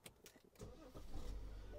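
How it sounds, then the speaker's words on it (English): A car engine cranks with a few short starter bursts, then catches and settles into a steady, close-up running rumble. "you come over here, start your vehicle."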